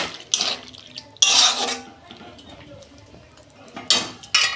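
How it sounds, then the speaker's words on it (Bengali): A lid is lifted off a cooking pan of snake gourd and potato posto: a few clanking metal knocks and a brief clatter, separated by quiet stretches with faint bubbling, heard close. "দেখুন বন্ধুরা, ঢাকনা খুলছি।"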